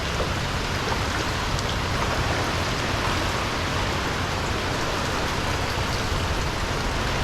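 Heavy typhoon rain pours down in a dense, unbroken hiss that stays loud and even throughout, with no voices over it.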